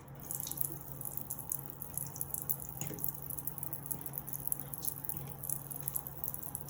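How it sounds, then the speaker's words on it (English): Water runs from a tap at a sink while hands are washed with liquid soap, a faint, steady trickle with small drips and splashes. "So first is wet your hand with a liquid soap."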